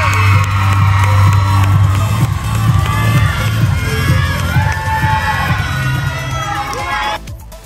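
Loud crowd cheering, whooping and shouting for the Black Phantom cheer team of Ultimate Cheer at an MCDA/Transcend cheerleading competition in French Lick, Indiana, sustained for about seven seconds before cutting off.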